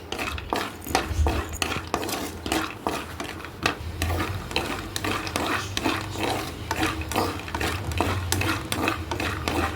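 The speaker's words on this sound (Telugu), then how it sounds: "ముందుగా పల్లీలు వేయించుకుందాం" Peanuts frying in a tablespoon of oil in a pan while being stirred, a near, continuous sizzle broken by a quick, regular series of scraping clicks from the spoon, with no talking.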